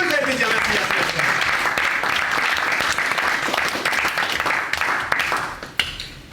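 Comedy club audience applauding at a stand-up show, dense sustained clapping filling the room, loud and close, with a few voices mixed in before it thins out toward the end.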